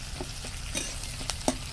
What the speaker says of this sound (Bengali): পেঁয়াজটাকে আমি খুব বেশি ভাজবো না, একটু শুধু কালার চেঞ্জ হয়ে যাবে এরকম করে ভাজবো